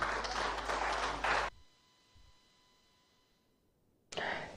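Applause from an audience at an official Ghana–Austria agreement signing during the Austrian Chancellor's visit, a dense burst that cuts off after about a second and a half, then near silence with a faint tone, and a fresh burst at the very end.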